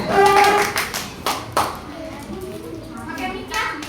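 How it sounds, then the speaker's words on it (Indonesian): A small group of schoolchildren and teachers clapping in an elementary school classroom during a training session, a few short bursts of uneven claps with children's voices chattering around them. "Beri tepuk tangan dulu untuk kelompok"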